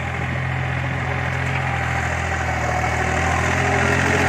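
A three-cylinder diesel tractor engine with a shuttle gearbox runs steadily at idle, a loud, constant low rumble with a slight vibrating hum throughout.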